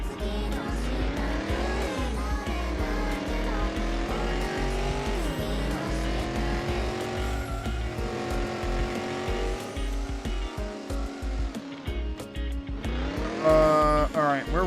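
Car driving in a video game demo, a constant racing engine drone with rising and falling revs and repeated tire squeals and skids, loud and close, with a voice occasionally heard.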